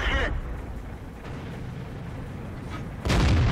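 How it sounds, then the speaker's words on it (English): A tank destroyer firing at a Panther in World of Tanks, a heavy cannon boom with rumbling aftermath, followed near the end by another loud blast over continuous engine noise. "that tank destroyer took a shot at me"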